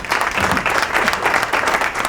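Loud studio audience applause on a Ramadan quiz show after a correct answer, close and energetic clapping that runs continuously for a couple of seconds.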